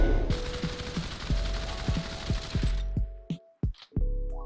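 P90 submachine gun firing in the Population One VR game: a long rapid burst of loud automatic shots, then a few separate single shots and short bursts with ringing tails.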